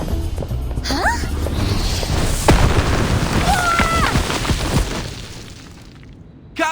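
A gum gun fires in the video game Reverse: 1999 with loud, heavy booms over a busy bed of game effects. Short vocal cries come through briefly in the middle.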